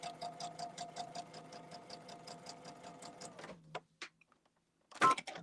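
A domestic sewing machine stitches quilt blocks in a fast, steady run of needle strokes for several seconds, then halts, followed by a couple of short clicks and a brief burst near the end.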